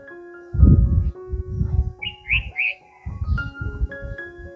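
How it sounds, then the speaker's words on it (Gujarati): Birds chirp around Sadra fort near Ahmedabad, a Mughal-era military outpost, as a short burst of bright tweets midway through, set against a steady low droning background. "પક્ષીઓનો પણ કલરવ અહીંયા આપણને સાંભળવા મળે છે"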